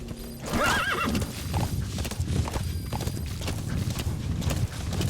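In Metal Gear Solid V, a horse lets out a loud whinny, then its hooves clop in a rapid galloping rhythm over a busy game soundscape, close and prominent.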